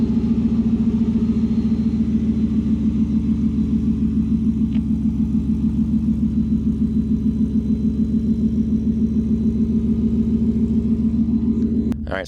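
A Ford F150 with a custom exhaust idles, heard from right beside the truck: a steady, deep, mean rumble with a regular pulsing throb, close and continuous.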